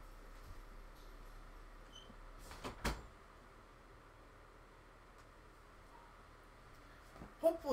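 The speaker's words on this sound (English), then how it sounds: "Let me close my door here for a second." A room door shuts with a brief thud and click partway through, followed by near silence and a faint clatter at the end.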